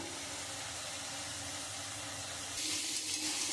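Snake gourd and onions frying in a pan, a steady broadband sizzle that holds throughout and swells louder and brighter near the end, with no voices.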